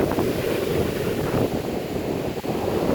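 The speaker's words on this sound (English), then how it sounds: "It's really, really windy out here." Strong wind buffets the microphone on a Hollywood, Florida beach during Hurricane Milton, with crashing surf roaring underneath in a loud, continuous wash and no voices.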